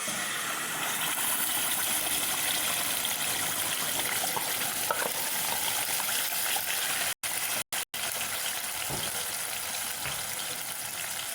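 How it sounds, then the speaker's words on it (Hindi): Ground onion paste sizzles and fries in hot oil for an Indian egg and potato gravy, a steady dense crackle close by, briefly cut out twice near the end, with no talking. "ऑयल हमारा गर्म हो गया है। अब हम इसमें डाल देंगे जो पिसी थी प्याज वो।"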